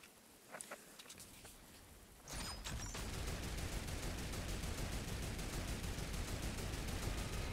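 Shotgun fire in the Fortnite video game: a few sharp shots early on, then a sustained dense barrage of rapid gunfire and clatter that stays loud to the end, with no talking.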